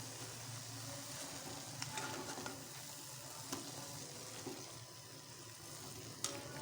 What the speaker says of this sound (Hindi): और इसको करेंगे अच्छे से मिक्स।